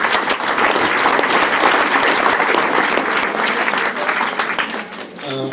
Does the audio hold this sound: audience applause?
yes